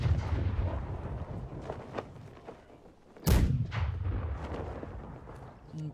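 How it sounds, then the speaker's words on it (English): Ship cannons fire during a naval battle in the pirate game Blackwake: a deep booming blast stands out, with duller rumbling shots and battle noise around it. "Cannons."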